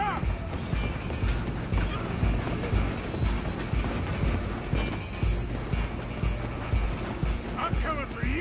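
A moving train in the Western video game Red Dead Redemption 2, a dense steady rumble of wheels and clanking cars mixed with horse hooves and mechanical rattle, continuous and loud throughout.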